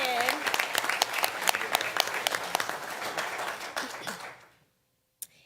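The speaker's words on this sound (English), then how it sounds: "Big round of applause for Jordan." Applause from the audience at a school board meeting, a burst of many hands clapping near and loud that thins out and stops, followed by silence and one last isolated clap.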